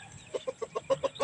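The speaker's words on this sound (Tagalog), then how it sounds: "Ito yung ating shamo." A shamo chicken gives a quick series of about seven soft, evenly spaced clucks, close but fairly quiet.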